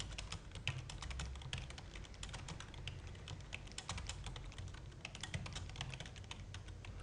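Steady computer-keyboard typing while entering a GLM formula in RStudio, a continuous run of quick, close clicks and taps that carries on alone for several seconds without talk.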